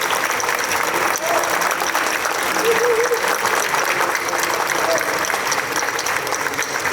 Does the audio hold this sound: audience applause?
yes